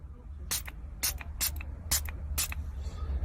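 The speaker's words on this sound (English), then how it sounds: "Next, we're going to go ahead and spray the protector itself" Five quick hissing bursts of a spray bottle misting water onto a protector for a Toyota Tacoma, at a steady pace, close by, over a low background hum.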